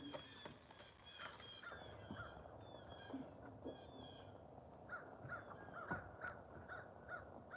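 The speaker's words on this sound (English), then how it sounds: "the birds around here are crazy" Crows caw repeatedly outdoors near a pottery kiln, short harsh calls scattered over steady low background noise, fairly distant and faint.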